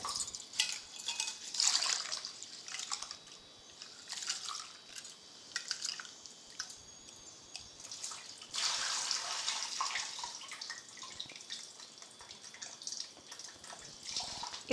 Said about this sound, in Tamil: இந்த அரிசியை நல்லா களைஞ்சி ஒரு குக்கரில் வைக்க போகிறேன்.